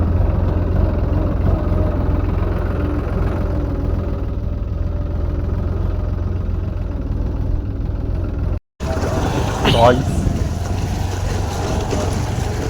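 A tractor engine drones low, steadily and close, a continuous rumbling hum that briefly cuts out near the end before resuming with rattling.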